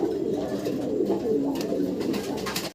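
Pigeons on a pigeon farm loft coo steadily and close by, a dense overlapping murmur of throaty calls with light rustling as the birds hop about, cutting off abruptly at the end.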